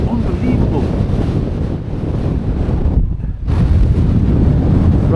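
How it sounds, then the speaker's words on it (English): Strong sub-zero winter wind buffeting a microphone outdoors in snow, a loud rumbling roar that dips briefly near the middle before surging back, with no clear talk. "this wind is just biting in the eyes"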